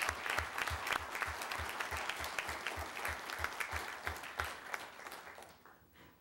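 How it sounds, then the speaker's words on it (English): A round of applause from the audience at a city council meeting honoring citizens, steady clapping with a regular beat that swells, then thins and fades out near the end. "a round of applause."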